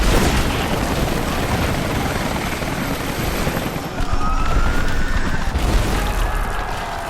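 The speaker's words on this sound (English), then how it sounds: "Those choppers should be in range soon." Helicopters arriving during a tense mission in the video game Rise of the Tomb Raider, a loud, steady rotor drone filling the scene, with whining engine tones and rumbling game effects layered over it.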